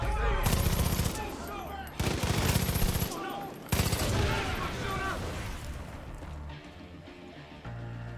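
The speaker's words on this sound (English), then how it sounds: "Who are they shooting at?" Gunfire in the open-world shooter Far Cry 5, loud bursts of rapid automatic shots coming in several clustered volleys with brief gaps, a voice speaking between and over the shooting.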